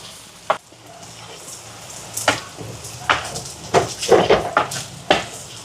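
Chili powder is stirred into hot sesame oil in a pan, giving a low sizzle under a series of sharp spoon scrapes and clinks against the metal, close and intermittent.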